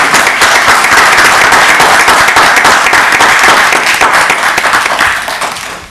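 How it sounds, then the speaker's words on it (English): Loud, dense hand clapping from the audience at a town council meeting after a unanimous vote, steady and close throughout before tapering off at the end. "And you can clap your hands"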